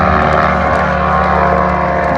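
A highly modified Rans light aircraft takes off, its propeller engine droning steadily at close range, a loud continuous buzzing hum with no voices over it.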